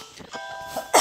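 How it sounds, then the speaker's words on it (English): One person coughs: a short throaty hack, then a brief pause and a louder, harsher burst at the end, close and dry, with no speech. "I'm kind of coughing a little bit"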